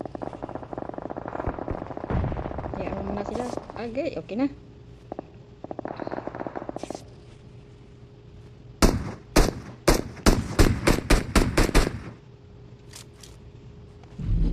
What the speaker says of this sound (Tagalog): Ayun, ang lakas ng putok.